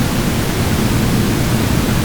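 A steady, loud rush of low, bassy noise from a speaker's bass port, with a whooshing, unpitched character, continuous and close, with no voices.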